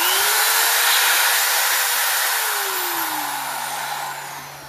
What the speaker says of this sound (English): just so you can hear what a actual high power 1/8-inch rotary tools sound like, we'll plug in this 3-amp